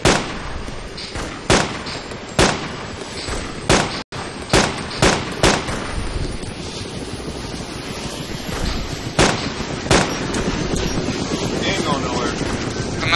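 Repeated gunshots in the DayZ video game ring out as sharp, loud bursts, a dozen or so spaced irregularly over steady game noise, with players talking throughout.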